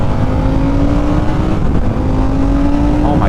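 A Harley-Davidson Sportster S motorcycle accelerates near full throttle, its engine a loud, steady, close roar that rises in pitch over a few seconds under strong wind rumble.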